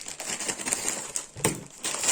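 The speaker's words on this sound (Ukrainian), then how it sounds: "воно запаковано в чорний пакет" A black plastic parcel bag crinkles and rustles continuously as it is opened, with a stronger crunch partway through, close and fairly loud.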